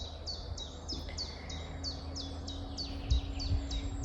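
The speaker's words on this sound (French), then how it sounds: "Le chant des oiseaux." Birds sing outdoors in nature, a quick series of high chirps repeating at a steady pace over a quiet background hum, moderately distant and with no talking.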